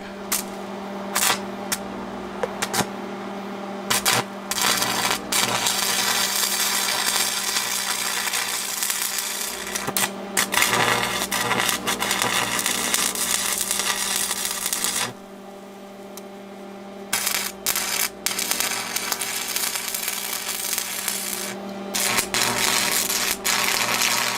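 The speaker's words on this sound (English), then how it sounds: "Let's go ahead and weld this up, our mounting bar, or mounting plate if you will, to our square tubing." MIG tack welding joins a steel mounting plate to square steel tubing for a homemade transmission stand, a loud continuous crackling buzz in several bursts separated by short pauses, with no talking.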